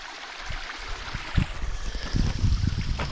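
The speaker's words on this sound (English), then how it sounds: "Just come across a nice waterfall, very small one, still counts" A very small waterfall in Scotland gives a steady, close rush of splashing water with occasional louder gurgles throughout.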